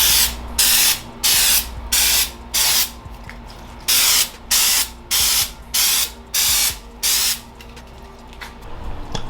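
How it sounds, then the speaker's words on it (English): Repeated short bursts of aerosol prep spray degreaser on bare vehicle parts hiss, about a dozen, in a steady rhythm with brief pauses, close and loud. "get your prep spray. This right here cleans and degreases bare surfaces before painting."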